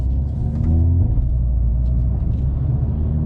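A Hyundai Veloster N hatchback driving along, its engine a steady, loud low rumble with road noise and a slight rise in revs near the start, no talk over it.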